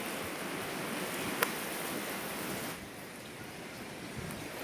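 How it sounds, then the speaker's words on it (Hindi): Dense, steady hiss of heavy rainfall fills the scene, broad and constant, with a single sharp click partway through and no voices. "तेज बारिश आ चुकी है"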